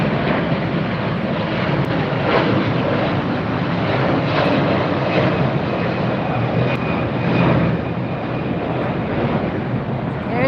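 Moss Airways airliner passes at LAX airport, its jet engines giving a loud, steady roar with wind buffeting over the outdoor microphone and no talking.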